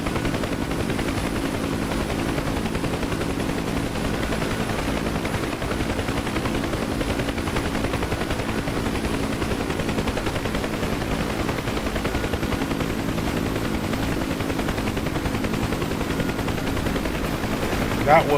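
An aircraft takes off in DCS World on the Persian Gulf map, likely a rough takeoff in an F-16, A-10C II or Apache, with a constant loud engine roar and rotor-like rattle throughout and no talking.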